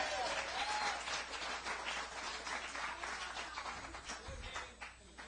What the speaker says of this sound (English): Can we get a round of applause for Donnie for helping the kids?